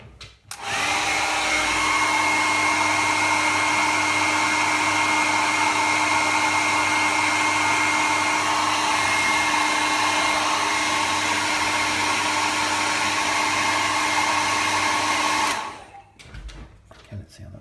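A hair dryer blows steadily and loudly for about fifteen seconds, drying a fresh layer of varnish, with a constant airy whoosh and motor whine before it cuts off abruptly into brief rustling.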